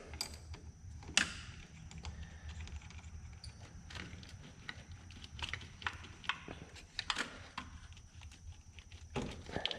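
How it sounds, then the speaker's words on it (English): Small metallic clicks and ratcheting taps come from a wrench loosening the 10mm positive battery cable nut on a 2012 Subaru Forester, quiet, close and irregular, scattered over a low background hum. "There's a 10mm nut on there. Just going to go ahead and loosen that up."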